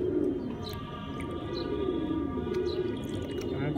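Pigeons cooing in a loft, soft repeated low coos over a steady background hum with occasional faint chirps, close and continuous, with no talking.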